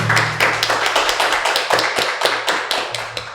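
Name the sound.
applause for Archbishop Dom Alberto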